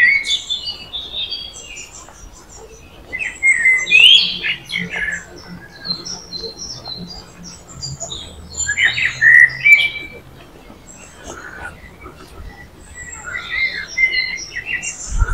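Birds chirp and tweet repeatedly outdoors in a palace garden, with bright calls and brief squawks rising over a soft, steady ambient hum.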